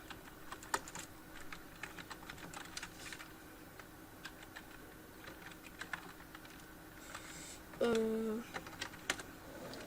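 Quiet, steady typing on a computer keyboard, a run of soft irregular key clicks with occasional louder taps, plus a brief tonal beep partway through.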